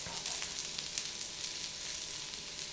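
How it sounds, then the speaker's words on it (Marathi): Ingredients roast in hot oil in a pan while green chickpea usal is cooked. A steady, close sizzle with fine crackles and pops continues evenly throughout, with no talking. "तेलावर सगळ्या गोष्टी अगदी खरपूस भाजल्या पाहिजेत।"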